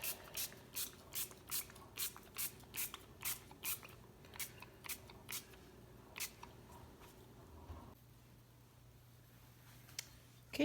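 Short, regular spritzes of 90% rubbing alcohol from a spray bottle onto small tins, about a dozen quick hissing bursts in a steady rhythm, close and fairly quiet, then a lull.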